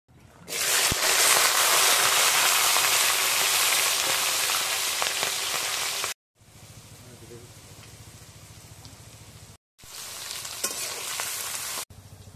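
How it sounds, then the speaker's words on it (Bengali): Loud, crackling sizzle of vegetables frying in hot rapeseed oil for fried rice, with a few cuts where the sizzle drops quieter before flaring up again. "ততক্ষণ আমি সবজিগুলো ভেজে নেব রেপসি তেলে"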